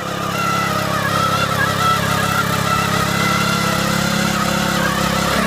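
Sraja power weeder engine running in a higher gear while tilling a field, a loud continuous buzzing motor that stays steady and close throughout with no talk.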